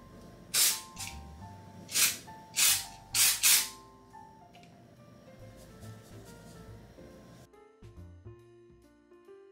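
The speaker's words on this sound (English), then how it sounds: "we're going through with the Batiste spray" Several short, loud hissing bursts of Batiste dry shampoo spray onto hair, four quick blasts in a row, followed by quieter background music.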